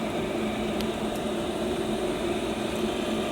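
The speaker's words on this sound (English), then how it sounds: "Now we're also going to turn the Rectech on and get it up to temperature so we're ready to go." A Rec Tec pellet grill powered on and heating up to 225 degrees for an overnight brisket cook, giving a steady, moderate fan-like hum with faint ticks, no talk.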